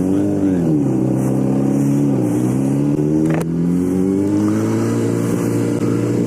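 Motorbike engine while riding, a loud steady drone close up whose pitch rises and dips with throttle changes, running continuously without talk.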